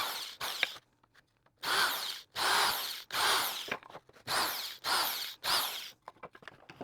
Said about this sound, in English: Just going to use a little countersink bit there just to recess the screw heads.